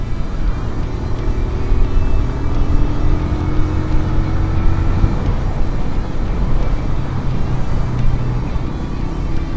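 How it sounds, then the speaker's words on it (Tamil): A TVS Apache RTR 160 2V motorcycle running at top speed on a highway, with a constant engine hum buried in loud, rushing wind noise and no speech. "இப்போ ஹைவேஸில் வந்து நம்ம டாப் ஸ்பீட் டெஸ்ட் பண்ண போகிறோம்."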